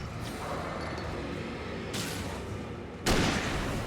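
Gunshots ring out in the video game Alan Wake Remastered, two sharp broadband cracks, the second louder and closer, over a steady dark ambient rumble.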